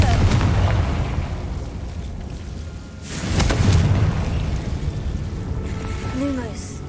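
Confringo fire spell explosions in Hogwarts Legacy, the Harry Potter video game: a rumbling blast opens, a second sharp burst lands mid-way with a booming tail, and faint magical chimes follow over low background noise.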